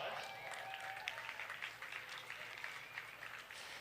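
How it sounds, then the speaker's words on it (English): Sustained audience applause at an outdoor food truck fundraiser event, a dense continuous clatter of clapping from a crowd, heard at a distance and fairly faint throughout. "Let's go ahead and give them a round of applause."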